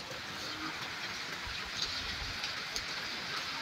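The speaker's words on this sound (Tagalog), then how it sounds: "So ganito lang yung itsura ng ulan dito sa amin." Steady rain hisses evenly throughout, a broad wash of falling water with a low rumble underneath and no voices.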